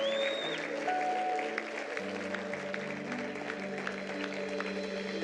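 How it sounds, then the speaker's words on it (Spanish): A church congregation claps for the Lord during an evening Spanish-language service, a steady moderate clapping under sustained organ or keyboard tones. "dale un fuerte aplauso al Señor en esta noche"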